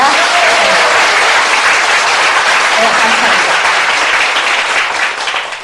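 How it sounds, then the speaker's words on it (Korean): A seated audience at a meeting gives a welcoming round of applause for newcomers, dense and loud clapping that continues throughout, with a voice speaking briefly over it. "우리 새로 오신 분들을 위해서 환영의 박수 한번 부탁합니다."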